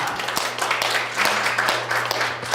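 Applause from a lecture audience welcoming a professor to an invited expert talk, a dense, steady patter of many hands filling the room over a low electrical hum, with no voices.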